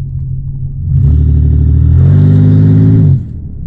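A 1992 Buick LeSabre with its 3800 V6 engine revs up from a low idle rumble, holding a strong, loud mid-pitched drone for about two seconds before dropping back to idle.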